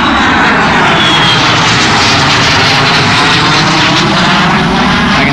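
An airplane passes close overhead near Hampstead, North Carolina, its engine a loud, steady, broad roar that fills the whole moment, with no talking over it.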